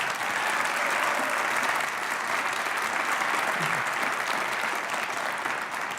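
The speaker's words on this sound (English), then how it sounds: "President Fernandez, will you stand up for a round of applause?" An audience at an annual memorial lecture gives a long, even round of applause, dense clapping from a large crowd heard from some distance and holding steady throughout.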